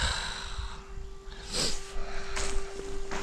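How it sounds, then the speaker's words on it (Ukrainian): Two or three quick nasal sniffs, close by, over a steady low hum and faint background noise. "чую, як шмигаю носом постійно"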